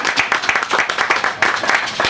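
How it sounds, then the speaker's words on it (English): An audience at a Wilmington political event applauds Fred Smith, a North Carolina governor candidate, with dense, steady crowd clapping that fills the moment without letup. "You can go ahead and applaud Fred Smith."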